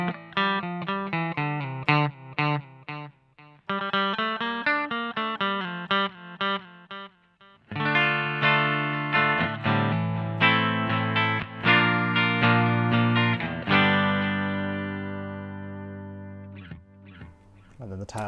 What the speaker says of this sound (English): the delay only comes through after you stop playing